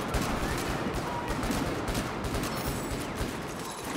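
A Unica 6 gun fires in a video game, heard as dense, continuous rapid gunfire and battle noise that runs loud and steady throughout.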